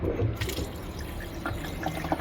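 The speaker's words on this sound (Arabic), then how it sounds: "نفتح عليها ايه الميه" Tap water runs steadily onto cooked macaroni in a cooking pot, a close, continuous splashing rush that holds for the whole stretch with no one speaking.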